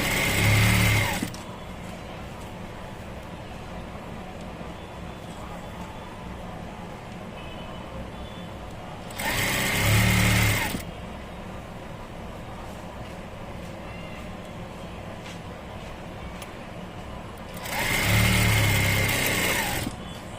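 A sewing machine stitches a nighty alteration with matching thread, running in three short bursts of a second or two each. Long stretches of quieter room noise separate the bursts.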